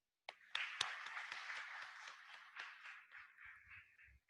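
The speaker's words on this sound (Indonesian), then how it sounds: "kita beri aplaus untuk beliau" An audience at an East Java regional religious affairs office event on halal certification for small businesses claps for the head of the office. The applause is steady and diffuse but heard faintly and from a distance.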